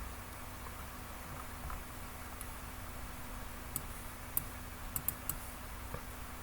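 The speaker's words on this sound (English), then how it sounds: "That's just so much typing." A computer keyboard is typed on while programming a Snake game in Python. A few faint, scattered key clicks sit over a quiet steady hum.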